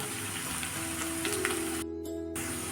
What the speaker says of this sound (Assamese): এয়া ধুনীয়াকৈ ভাজি আছোঁ, দেখিছে